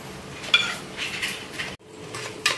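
Cooked vegetables being mashed in a pot with a metal utensil, giving several soft scraping and tapping knocks, fairly close, with a short silent gap partway through and no speech.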